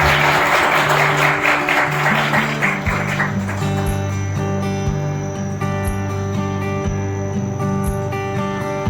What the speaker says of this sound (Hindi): एक छोटा सा अवार्ड उनके लिए, जोरदार तालियों के साथ।